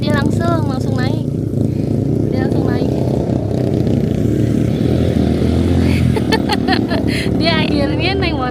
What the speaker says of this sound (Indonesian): Dia akhirnya naik motor juga.